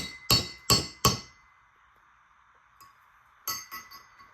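Three sharp metallic hammer blows on a 10mm socket, driving a valve seal down onto a K20/K24 cylinder head, ringing with a clinky tone, then a short pause and a lighter cluster of taps near the end.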